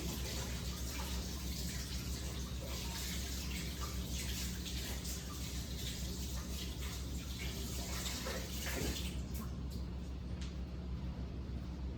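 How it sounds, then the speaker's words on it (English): Hands are washed under a running kitchen tap while bread is being made. The water makes a steady close splashing hiss that runs throughout, with small shifts as the hands move in the stream. "So let me quickly wash my hands."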